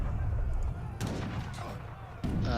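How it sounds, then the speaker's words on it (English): Heavy cannons fire in the Age of Empires-style strategy game on a snowy map, a few booming volleys that layer over steady battle noise, loud and close, with sharp bursts near the start and end. "heavy cannons."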